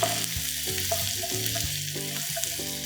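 Tiger prawn manchurian with onion sizzling steadily in a pan, a continuous close frying hiss with a few soft stirring bumps and a low tonal hum underneath.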